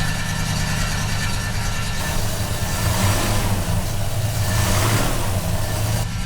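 A classic Rover P5B's engine runs steadily just after its first start-up of the year, with a low, continuous rumble and mild revving that holds loud and close throughout.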